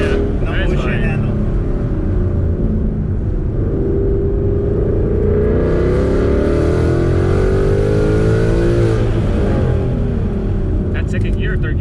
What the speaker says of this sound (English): I forget you can rev so high.